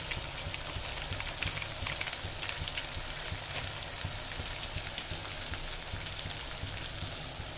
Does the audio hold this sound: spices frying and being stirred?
yes